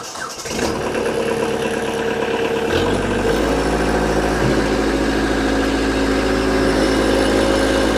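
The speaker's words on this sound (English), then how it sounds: "we're going to fire this tractor up" A 2011 Kubota B3200HSD compact tractor's small diesel engine cranks, catches and settles into a loud, steady idle that runs on without a break.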